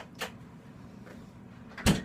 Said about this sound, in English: close the fridge door